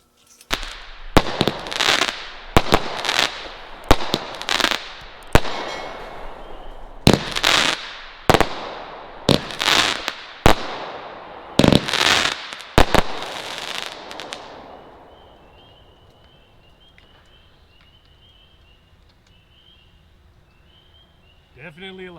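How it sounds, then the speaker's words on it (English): A Red Apple Fireworks Ghost Supernatural Finale set fires about a dozen sharp, loud bursts in quick irregular succession, then the crackling reports fade away into quiet outdoor ambience. "I'm going to fire them in the green, orange, purple, blue order."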